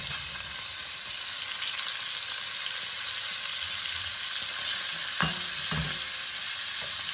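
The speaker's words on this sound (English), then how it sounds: "We're going to saute that shrimp for about 3 to 4 minutes." Shrimp sautéing in a pan just after bacon has been cooked and drained, for a corn chowder; a steady close hiss of sizzling runs throughout, with a few clattering stirs near the end and no talk.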